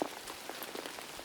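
Soft rain patters steadily outside, a faint, even scatter of drops with no other sounds over it.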